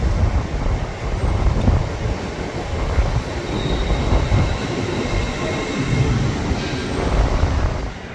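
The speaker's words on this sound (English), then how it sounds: "we caught this random 800 pulling in." An LNER Class 800 train pulls into a station, its wheels and traction rumbling loudly and steadily with faint squeals as it rolls past on the platform.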